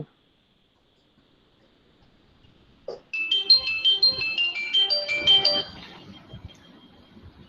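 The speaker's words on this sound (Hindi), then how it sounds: "यार ओमकार कितना फोन करता है" A phone ringtone plays as a melodic electronic tune after a stretch of near silence, fairly loud and steady for a couple of seconds before fading into low room noise.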